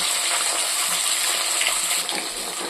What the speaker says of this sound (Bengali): চলো মাছগুলো ভাজতে থাকি দিলাম